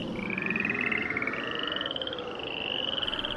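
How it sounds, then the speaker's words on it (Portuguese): Chorus of frogs croaking in a steady pulsing rhythm, several calls overlapping throughout, loud and close with no talk over them. "as rãs saíram das águas e cobriram todo o país"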